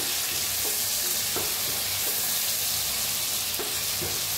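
Masala ridge gourd fries in oil in a kadhai while being stirred, giving a steady broadband sizzle with a few scraping strokes of the spoon, close and continuous, with no talking.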